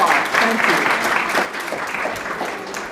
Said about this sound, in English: Let's give her an round of applause